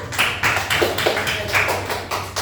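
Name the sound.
applause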